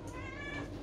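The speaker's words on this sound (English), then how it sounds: "we've got a cat on the loose as well here" A house cat gives a single drawn-out meow in a kitchen, close and clear against low background hum.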